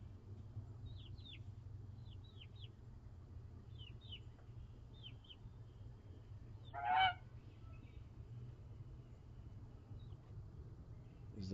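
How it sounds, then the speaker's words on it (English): Backyard fowl calling: a series of short, high honking squawks repeats at intervals over a steady low hum, with one louder, harsher cackle near the middle; no speech. "Why are you bothering chickens?"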